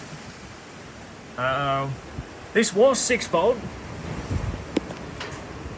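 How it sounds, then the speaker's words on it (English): Wind and rain outdoors beside a Dodge WC55, a steady broadband hiss of gusting wind and falling rain running throughout beneath someone speaking briefly. "I don't have a rag, but it's raining right now, and it's badly windy."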